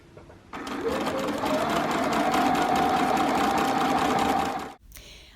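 A sewing machine gathers a lace ruffle onto a collar, running at a steady fast whir for about four seconds before stopping abruptly.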